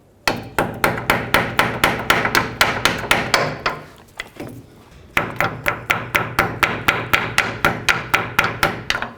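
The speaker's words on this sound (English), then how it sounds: "now you want to just bend over 2 of the sides on this lock washer" A hammer strikes repeatedly to bend over lock washer tabs on an inner tie rod of a 2001-07 Toyota Sequoia steering rack, giving loud, close, sharp metallic blows in a fast even rhythm with a short break midway.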